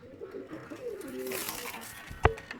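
Soft coos of a Pakistani high-flyer pigeon murmur low and close for a few seconds, followed by a brief sharp knock near the end.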